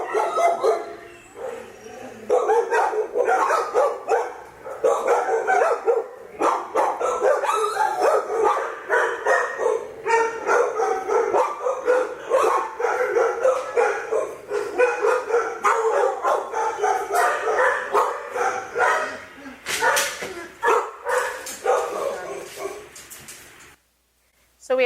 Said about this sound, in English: as the handler walked through, you started to get some alert barking that caught on